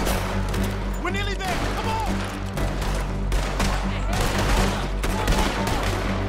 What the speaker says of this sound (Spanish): Por acá, Sparín le está disparando.